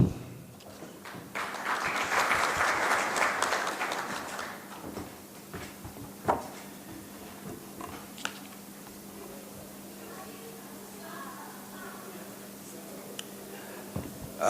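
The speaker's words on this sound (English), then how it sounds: "Let's give another round of applause to His Excellency Khalid Bodali" Audience applause at the opening ceremony of an ECOSOCC permanent general assembly, a broad patter of clapping that swells over the first few seconds, then fades to a quiet room with scattered small taps.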